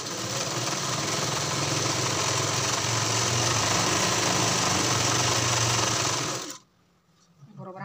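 A sewing machine stitches blouse fabric in a fast, steady mechanical whirr up close, running for about six seconds before stopping abruptly, followed by quiet handling sounds.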